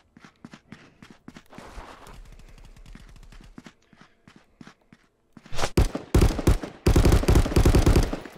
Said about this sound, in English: Nice shots, Berlin.